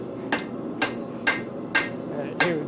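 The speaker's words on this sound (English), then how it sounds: "So I'm not hammering into my anvil." Hammer strikes on hot metal at an anvil while forging a nutcracker: five sharp, evenly spaced clangs about half a second apart, loud and close.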